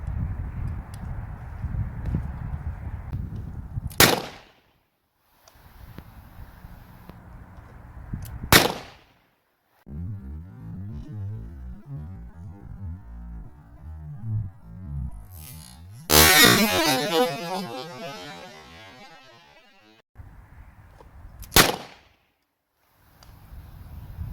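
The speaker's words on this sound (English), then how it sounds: "try and do a triple shot, anything with live ammo" Four sharp, loud gunshots from a .45 Colt revolver fired with live ammunition during cowboy fast-draw practice, spaced several seconds apart outdoors, with faint shuffling and handling noise between shots.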